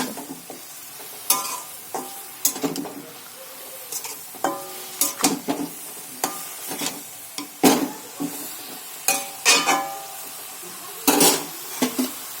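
Chicken is stirred in a wok over a wood-fired stove: roughly a dozen sharp metal scrapes and clanks of the spatula, spaced irregularly over a low, steady sizzle, close and fairly loud.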